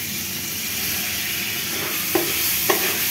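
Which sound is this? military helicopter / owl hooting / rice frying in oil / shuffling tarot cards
rice frying in oil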